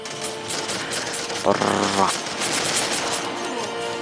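A Gatling machine gun in The Respawnables video game fires a short, rapid burst of about half a second, rattling over steady background game noise.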